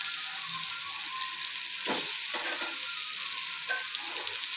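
Boiled eggs fried in a spiced masala in a pan: a steady sizzle carries throughout, with a couple of soft stirring scrapes near the middle.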